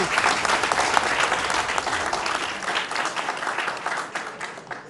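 Loud, dense audience applause at a televised political forum, many hands clapping together in a sustained wash that slowly thins toward the end, with no talk over it.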